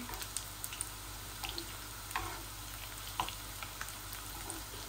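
Tilapia fish kebabs frying in hot oil, a steady low sizzle with scattered soft pops and crackles, fairly faint and close, with no one speaking.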